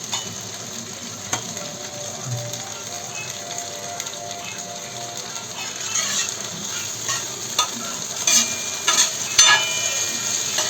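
Tomatoes fry on a tawa for tawa pulao, giving a steady close sizzle with occasional scraping and tapping from stirring, growing slightly busier toward the end, with no talking.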